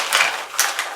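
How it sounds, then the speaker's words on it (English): The tool bag of a Losi 5ive-T 2.0 RC truck being opened up close, a brief rough rasp, likely a zipper, in short bursts over about a second, with no talking. "Let's go ahead and open up the tool bag here and see what all is included here."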